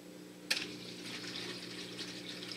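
An automatic protein skimmer on an aquarium is switched on with a sharp click, followed by a soft, steady rush and trickle of water flowing through it, quiet and close.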